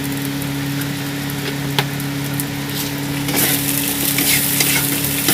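Pointed gourd paste with a little sugar is stirred in a hot pan. A steady sizzle fries underneath, with a few scraping stirs that grow busier toward the end. No one speaks.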